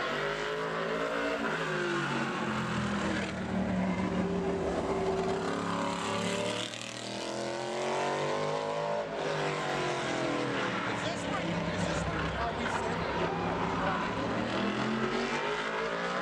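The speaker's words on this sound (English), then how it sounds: "Super Center Chevrolet, the number 88, driven tonight by Johnny Mordock" Modified race car on a qualifying lap at Bowman Gray Stadium, a quarter-mile asphalt track: a loud engine roars past, its pitch rising and falling through the turns, while an announcer talks over the PA.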